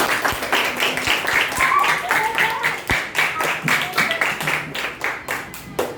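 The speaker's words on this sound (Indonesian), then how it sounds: "Tepuk tangan untuk kalian semua hari ini." Schoolchildren in an Indonesian classroom clap together at the end of a lesson, a dense patter of many small hands with sharp individual slaps standing out, thinning toward the end, close and fairly loud with no talk over it.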